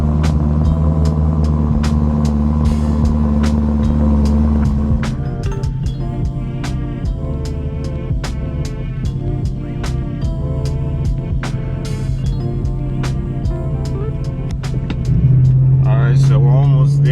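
A BMW M3 drives through New York over pothole-ridden streets, heard from inside as a loud, continuous low engine rumble with road noise and scattered knocks and thumps, and a voice speaks over it throughout.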